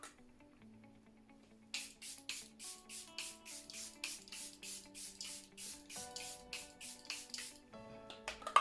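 Charlotte Tilbury Airbrush Flawless setting spray misted onto a face in a quick run of about a dozen short, crisp pump bursts, evenly paced and close, over faint background music.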